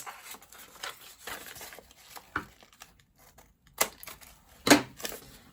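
Scissors trim through folded layers of a paper skirt pattern, giving a series of close, crisp snipping and crinkling cuts with short pauses, then a louder final snip near the end.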